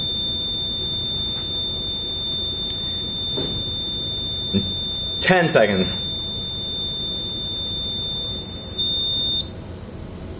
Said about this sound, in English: that buzzer should turn off.